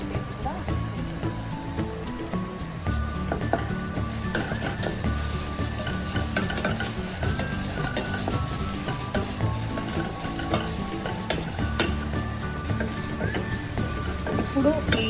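Ginger garlic paste fries in hot tempering oil while being stirred, a loud continuous sizzle and crackle with scraping from the stirring throughout.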